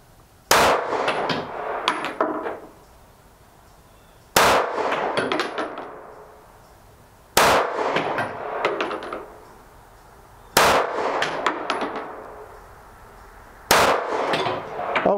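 A Ruger MAX-9 Pro pistol fires five single shots from a rest at 10 yards. Each sharp, loud crack is followed by a ringing tail, spaced about three to four seconds apart, with no talk between them.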